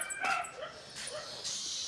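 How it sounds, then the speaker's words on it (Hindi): A dog gives a few short, sharp yips and barks at moderate distance, spaced unevenly over a quiet background. "कुत्ता देखो कैसे भौंकत है"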